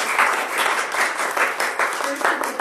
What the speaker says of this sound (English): So applaud yourselves.